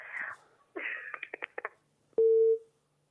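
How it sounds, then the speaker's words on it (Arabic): A telephone handset sounds a short steady tone after a call drops, following brief faint talk and clicks on the line. "طيب الاتصال انقطع"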